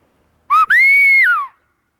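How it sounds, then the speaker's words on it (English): A loud, close two-finger whistle calls squirrels: a short sharp chirp followed at once by one long, piercing note that rises, holds and then falls away. "I whistle."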